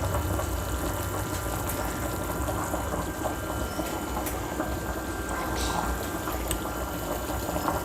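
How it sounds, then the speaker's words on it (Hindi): Water boils in a covered cooking pot on a kitchen stove while fish pulao is being prepared, giving a steady, quiet bubbling and hissing with scattered small pops throughout. "ये देखिए पानी उबलना शुरू हो गया है।"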